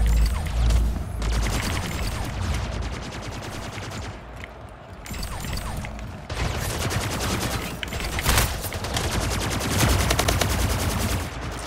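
Video game gunfire during a competitive shooting round: loud, dense bursts of rapid automatic fire, nearly continuous with a brief lull midway, then resuming hard and sustained.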